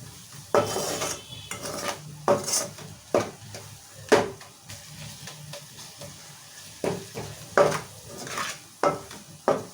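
Ginger garlic paste frying in a pan, stirred with a spatula: a soft sizzle runs underneath while sharp scraping and clanking strokes repeat at irregular intervals, close and fairly loud.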